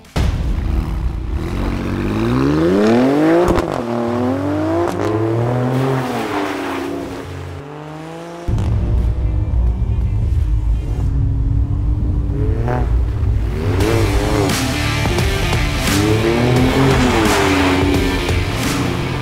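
An Alfa Romeo Stelvio Quadrifoglio's twin-turbo engine revs hard, pitch sweeping up and down through repeated throttle blips, a brief drop-off, then more loud revving, close and without talk.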